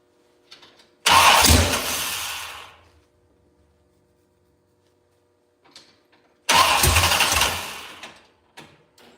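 A 1968 Chevrolet C10 with a 6.0 engine cranks in two loud bursts of a couple of seconds each, separated by silence, each attempt catching briefly and roaring before dying back down, with faint clicks around them.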